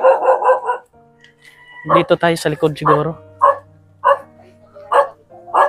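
A dog barks repeatedly nearby in short, sharp bursts, mixed with people talking.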